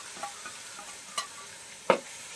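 Ginger, garlic, green chillies and shallots sautéing in a pan, a soft sizzle punctuated by a few clinking stirs with a utensil, close and quiet.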